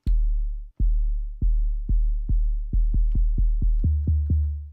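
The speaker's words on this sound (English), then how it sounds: "The 808 bass hit, which is just a shot of bass." Eleven punchy 808 bass hits programmed in FL Studio, each a deep booming thud with a short click at the start and a smooth decay. They come at a steady pace that quickens toward the end, with the last few slightly lower in pitch.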